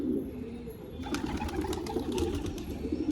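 A racing pigeon coos in low, rolling calls that repeat, near and fairly clear, over a faint background hum.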